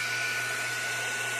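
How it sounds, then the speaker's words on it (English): A heat dryer blowing steadily on transparent acrylic paint coated on a gourd, a constant close airy whoosh with a faint motor whine, running alone without pause. "I'll dry it and with my heat dryer"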